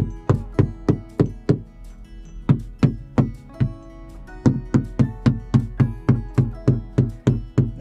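A sailboat hull is tapped around the chain plate area in a steady series of sharp, close knocks, some sounding duller and hollower than others, with short pauses between runs and no talking.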